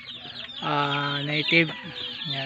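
Farm chickens, including black native hens, cluck loudly and close by in short, pitched calls, while someone speaks briefly in between.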